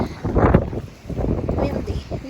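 Strong wind buffeting the microphone on the Lake Erie shore at Sterling State Park in Monroe, Michigan, a loud low rumble with gusts, under close talking.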